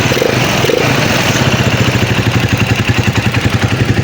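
Microbike EXT150 motorcycle fitted with a 200cc cylinder upgrade and a damaged exhaust, idling with an even, rapid, throbbing engine beat, loud and close, without talk.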